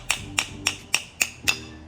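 A hammer tapping a stock transmission mount out of an Audi S5, six sharp metallic knocks in an even rhythm, close and distinct with no talk.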